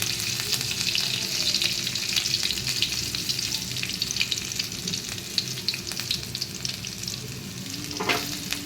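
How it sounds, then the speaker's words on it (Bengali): Green chillies fry over a high flame in hot oil, giving a continuous loud sizzle with scraping stirring sounds mixed in. "এরপর আমি এর মধ্যে একটু কাঁচা লঙ্কা দিয়ে দিচ্ছি।"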